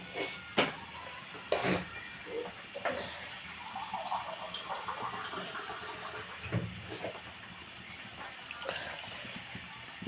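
Water splashes and trickles into a pan of cooking beans, soft and close, with a few clattering knocks around it and no talking.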